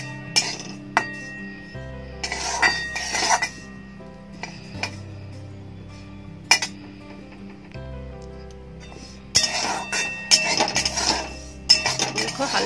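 Sesame seeds roast in a pan while a spoon stirs and scrapes, giving scattered clinks and metallic scrapes that come in short bursts between quieter stretches, with a faint sizzle underneath.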